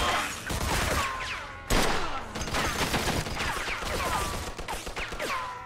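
Machine gun fire in Mafia 2: rapid automatic bursts rattle continuously at close range, with a sharp loud onset midway and ringing tails, almost no talk over it.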